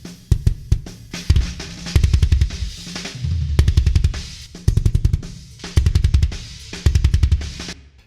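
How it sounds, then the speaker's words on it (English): A metal kick drum shaped by a bass EQ plugin hits in rapid double-kick bursts and steady patterns with a punchy, heavy low end, loud and close, and no voices. "So it is pre-shaping the kick drum"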